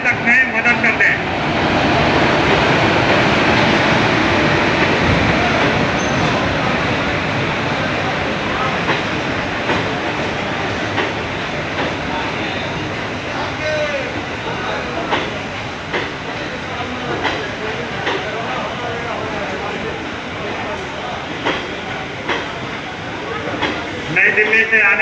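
A Shramik Special train from New Delhi rolls into a station at Bhagalpur with a loud rumbling approach, hiss and clattering wheels, under a public-address voice announcing over the noise.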